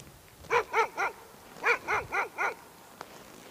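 Dogs bark in two bursts, three yips then four, on an open airfield where roe deer graze. The barking is moderately distant and has no speech over it.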